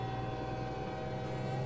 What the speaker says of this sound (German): Der Truck hat eine Hupe wie ein Zug, der gleich angefahren kommt